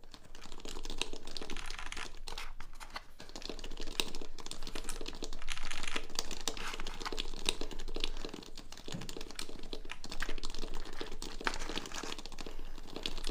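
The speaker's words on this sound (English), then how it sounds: "Why build keyboards if you can't type on them?" Continuous fast typing on a custom-built mechanical keyboard, a dense clatter of keystrokes heard close up for over ten seconds with brief lulls and no voices.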